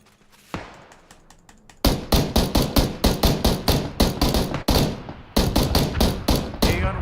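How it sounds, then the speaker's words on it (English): Gunfire aimed at a vehicle in a PUBG esports match, loud repeated bursts of evenly spaced shots in a steady rhythm with short gaps between volleys, close and dominant with no talk. "Aeon Wax shooting the vehicle"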